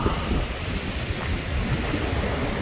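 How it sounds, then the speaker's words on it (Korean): Atlantic Ocean surf rolls onto a wide sandy beach in Porto, a continuous loud wash of waves mixed with buffeting wind noise. "해운대처럼 시원한 파도가 춤을 춥니다."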